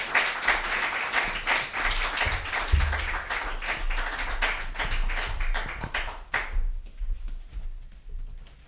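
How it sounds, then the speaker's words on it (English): An audience claps to welcome two guests onto a stage, brisk overlapping handclaps that stay lively for about six seconds and then thin out and fade, with no voices heard. "Round of applause for Craig and Chloe."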